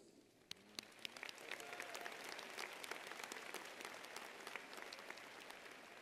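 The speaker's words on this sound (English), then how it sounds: "if you would all join me in applauding our special guest, faculty and students" A graduation audience at the Paxon School for Advanced Studies applauds. The dense clapping starts with a few sharp claps, then builds to steady, sustained applause, heard from a distance.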